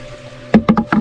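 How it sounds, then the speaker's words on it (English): A broken cave entrance door is lifted, giving four loud, close knocking clunks in quick succession after a second of quiet. "The door's a wee bit broken, but do you want to lift it and see what?"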